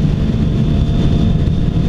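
A 2016 Suzuki GSX-R1000 motorcycle cruises in sixth gear at about 70 mph on the interstate, around 4,500 rpm, giving a steady low engine drone mixed with heavy wind rush, continuous and loud with no talking.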